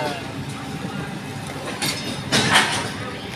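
A passenger train at a Russian railway station, with a steady low rumble and some brief metallic clanks and hisses rising near the end, while people talk nearby.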